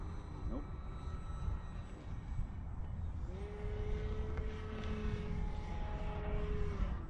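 A small scratch-built radio-controlled model airplane flies outdoors in some wind, its thin propeller whine rising and holding steady at middling distance over a constant breezy background, with people talking nearby.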